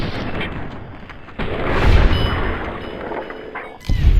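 Gunfire in Fallout: New Vegas, two heavy booming shots a couple of seconds apart, each followed by a rumbling tail, loud and close with no talking.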